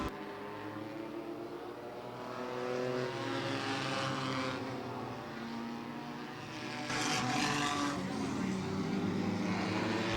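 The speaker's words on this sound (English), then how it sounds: "Final 2 laps of the V6 modifieds." V6 modified stock cars racing on a short track at Twin State Speedway, engines droning loudly and continuously with rising and falling pitch as cars pass, a sharper surge near the end.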